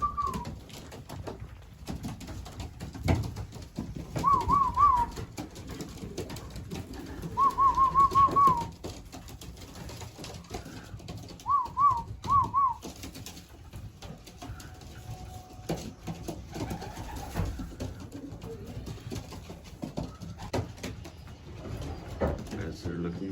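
Young racing pigeons coo in a loft in several short warbling bursts over a steady hum, with faint movement and ambient loft noise between calls.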